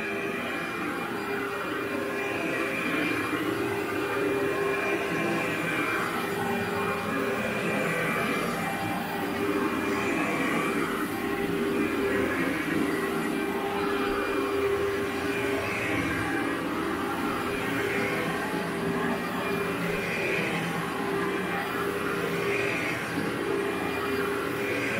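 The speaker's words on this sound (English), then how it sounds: "I thought I'd give you one more room of vacuuming." A vacuum cleaner runs continuously while a room is vacuumed, giving a steady, even whooshing drone with a faint tonal whine that holds throughout with no breaks.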